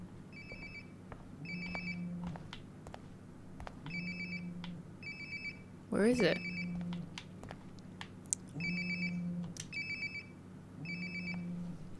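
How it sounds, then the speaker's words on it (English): A cell phone rings in Life Is Strange: Before The Storm, a repeating electronic ringtone in bursts with short gaps, moderately loud and close, with a brief whooshing sweep midway and a voice asking a question. "Sounds like my phone is definitely nearby."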